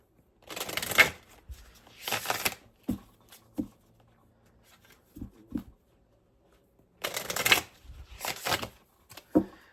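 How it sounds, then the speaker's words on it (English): Tarot cards shuffled by hand in several bursts, each a crisp riffling flutter lasting about a second, with quiet taps and soft handling in between, close and fairly quiet with no talking. "Be moving my cards around a bit"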